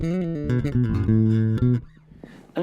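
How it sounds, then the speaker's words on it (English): Bass guitar plugged straight into a compact gigging pedalboard plays a short, clean run of low notes, close and dry, ending in a sustained note that fades out. "Coming straight into that, my basses sound like this."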